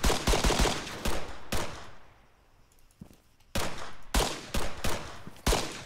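Sharp gunshots ring out in Arma 3 Wasteland, first as rapid close bursts, then a near-quiet lull broken by one lone shot, and finally more loud, spaced cracks, with no talking.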